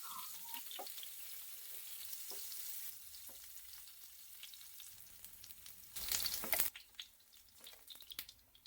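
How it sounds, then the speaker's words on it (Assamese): Paneer frying in a little oil on a tawa makes a soft crackling sizzle. It swells into a brief loud hiss partway through, then settles into scattered pops and clicks. "তাৰ বাবে টাৱা এখনত অলপ তেল দি পনীৰখিনি অলপ ভাজি লৈছোঁ।"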